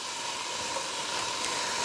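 Gochujang-seasoned pork and cabbage stir-frying in a pan, a steady loud sizzle and hiss running without a break from start to finish, with no talk over it.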